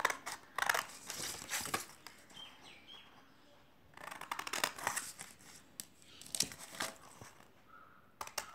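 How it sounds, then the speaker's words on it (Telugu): Scissors snip through an old invitation card to cut out a square, in several bursts of close crisp cutting and crinkling separated by short quiet pauses. "ఇలా స్క్వేర్ కట్ చేద్దాం."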